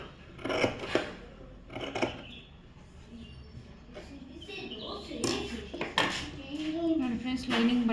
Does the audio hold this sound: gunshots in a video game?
no